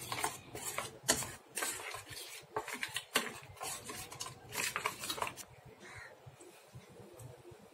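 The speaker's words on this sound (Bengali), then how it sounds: "এই চামচ দিয়ে একসাথে সব মিশিয়ে নেব।" A metal spoon scrapes and clinks against a bowl while hilsa fish is mixed with mustard oil, a steady run of close clattering strokes that thins out toward the end.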